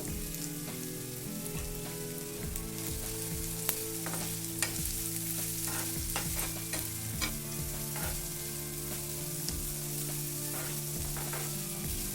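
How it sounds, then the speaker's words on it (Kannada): Finely chopped green chillies and onions fry in a pan, giving a constant close, dense sizzle with occasional sharp crackles, lying over a steady low background hum. "ಸಣ್ಣದಾಗಿ ಹೆಚ್ಚಿರೋಂಥ 2 ಈರುಳ್ಳಿನ ಸೇರಿಸ್ಕೊಂಡು ಒಂದು 2 ನಿಮಿಷ ಫ್ರೈ ಮಾಡ್ಕೋಬೇಕು."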